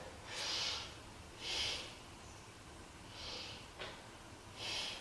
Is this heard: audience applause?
no